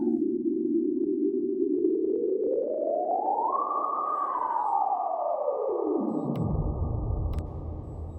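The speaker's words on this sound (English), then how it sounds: "We have a nice plate reverb with different size, damping, diffusions, and decay times in seconds." A synthesizer's atmospheric tone runs through a plate reverb, one sustained tone that glides upward, holds, then sweeps back down into a low rumble, steady and alone with no talking.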